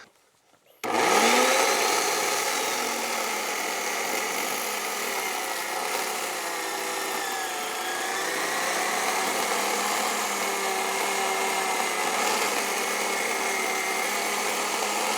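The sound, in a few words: chainsaw cutting through a tree for woodturning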